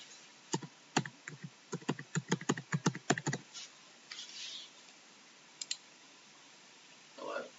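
Sharp mouse clicks in a quick irregular burst of about a dozen during network software configuration, close and crisp, followed by a few scattered softer clicks and faint rustling.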